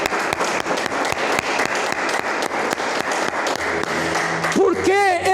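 Steady applause from a church congregation during a sermon on the Holy Spirit, dense clapping throughout that ends with a voice and tonal sounds breaking in near the end.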